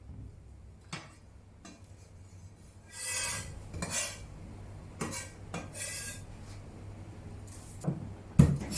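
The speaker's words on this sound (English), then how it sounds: "Place the chili in a mortar." Chopped chili pieces are dropped into a mortar while making Thai basil pork stir-fry, giving a few scattered clinks and scrapes of utensils against crockery, close and fairly quiet with no talking.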